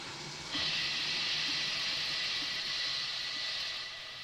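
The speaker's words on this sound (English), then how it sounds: "Thomas tried to whoosh some steam at him." A steam engine lets out a loud, steady hiss of escaping steam that starts abruptly and holds for several seconds before easing slightly.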